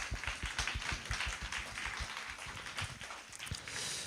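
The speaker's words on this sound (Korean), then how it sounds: "우리 늘 수고하시는데 박수 한번 하면 어떨까요" Church congregation applauding for a pastor, a loose run of claps that is fairly quiet and slightly distant, thinning toward the end.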